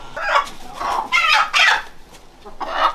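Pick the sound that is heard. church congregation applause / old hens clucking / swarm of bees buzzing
old hens clucking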